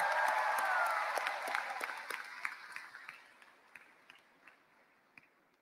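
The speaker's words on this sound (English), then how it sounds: "Please give them a round of applause." Graduating high school class of 2023 and their audience applaud in an auditorium, starting as a full burst and gradually dying away into scattered, fading claps.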